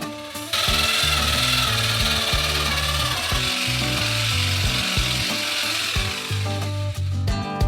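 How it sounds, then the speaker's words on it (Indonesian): A large mixer churns ice cream for a giant Snickers ice cream, giving a loud steady mechanical whir with rhythmic clunking and grinding tones, running alone without talk. "Dan campurkan dalam es krim dengan mixer besar."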